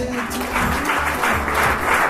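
Wedding guests applaud in a steady, dense burst of clapping that holds at an even level throughout, with no voices standing out above it.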